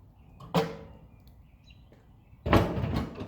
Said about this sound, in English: Open up our vents